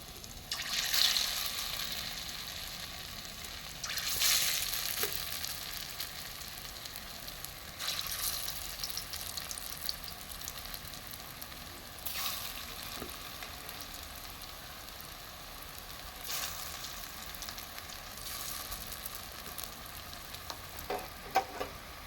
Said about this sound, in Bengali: তেলটা গরম হয়ে গেছে। এবার আমি আস্তে আস্তে ধোকাগুলো দিয়ে দিচ্ছি।